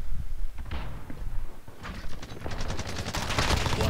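Automatic gunfire rattles in a Call of Duty: Modern Warfare multiplayer match at Suldal Harbor, with dense bursts of rapid shots building toward the end amid in-game noise.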